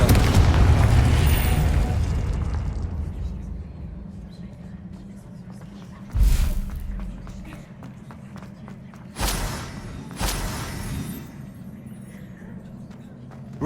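A Confringo spell in the Hogwarts Legacy video game sets off booming explosions, three distinct thumping bursts a few seconds apart over a low game soundscape.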